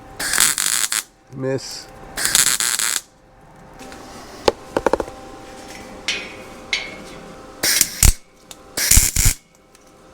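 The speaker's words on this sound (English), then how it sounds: "as I get it more sturdy, I'll ratchet strap it together." A ratchet strap is cranked tight on a welded fine-art metal piece, giving several short bursts of rapid clicking separated by pauses, close and fairly loud, with a brief word spoken.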